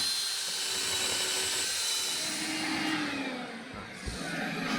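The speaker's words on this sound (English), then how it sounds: "We need to drill holes through the wood into the rock so that we can" Power drill boring through a wooden sole plate into the stone beneath during a Portuguese stone house renovation, a steady high-pitched whine running continuously throughout with a slight dip near the end, no talk.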